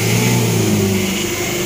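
Car engine revving after an Aero Magic Guard engine treatment, a loud, steady, smooth high-rpm drone held close up for a moment with no voices.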